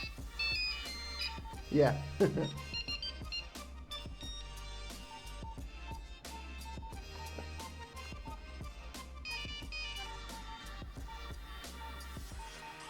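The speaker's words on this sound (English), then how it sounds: "I want to hear the Nokia too." A Nokia 6150 mobile phone plays a short, bright melodic ringtone over a constant low hum, heard amid casual conversation among several people nearby.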